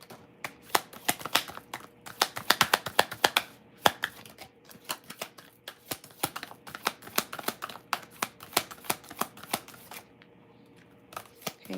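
Tarot cards are shuffled by hand close up, giving quick crisp riffling clicks and slaps in uneven bursts that go on throughout, fairly quiet with no talking.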